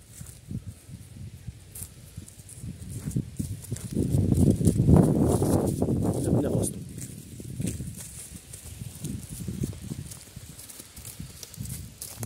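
A Kyrgyz horse walks along, its hooves clip-clopping in a steady, close rhythm that swells louder midway and then eases back, with soft rustling between the steps.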